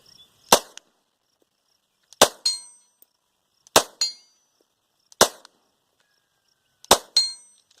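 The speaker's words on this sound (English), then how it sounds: "So what I'm going to do right now is put a few rounds through it, just to show you kind of what it looks like shooting" Five sharp, loud Walther PPQ M2 9mm pistol shots fired outdoors at a torso target about 50 yards away, spaced roughly a second and a half apart, each followed by a short ringing echo and a faint distant ding of steel.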